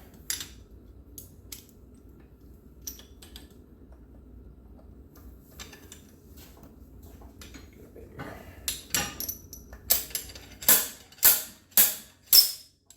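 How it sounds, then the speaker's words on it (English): Slide hammer hitting hard to free a stuck part on a 10 hp Briggs & Stratton engine during teardown: a run of sharp metallic knocks, spaced roughly half a second apart, growing louder toward the end after quiet shop rattling. "Then I got a slide hammer. I'm gonna give her some. Maybe she'll come off."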